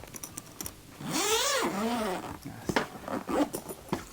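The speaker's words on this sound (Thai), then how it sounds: "ขออภัยนะครับเสียงซิป" A shotgun case zipper being pulled open in a few quick rasping strokes, close by, followed by light handling clicks and rustles.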